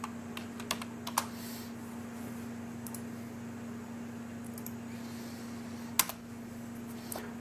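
Scattered key presses on a computer keyboard sound close and quiet, with sparse clicks and one sharper keystroke near the end over a faint steady hum.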